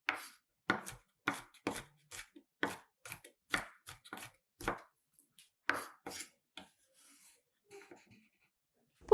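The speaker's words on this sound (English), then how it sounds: "crush 50 grams of garlic and lightly chop them to get rough pieces" A knife roughly chops 50 grams of crushed garlic on a cutting board in a series of crisp, close, irregular strikes that grow sparser and quieter toward the end, with silence between chops.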